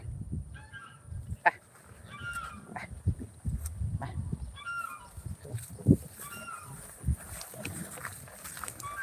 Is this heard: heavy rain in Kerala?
no